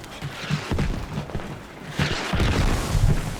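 Repeated explosions and gunfire boom through a battle over a capture flag in the military shooter game Squad, with dense bursts and heavy impacts, a brief lull, then more blasts crowding in close and loud.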